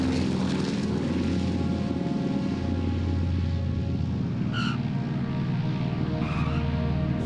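A twin-engine C-46 propeller airliner approaches the runway to land, its engines giving a loud, steady droning roar throughout, with brief radio-like tones and no talk.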